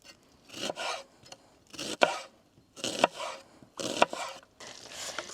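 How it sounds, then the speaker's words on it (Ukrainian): A knife chops an onion into half rings on a board, with short bursts of crisp, close cutting strokes coming in groups at a steady pace, and no talk. "нарізали нашу цибулю напівкільцями"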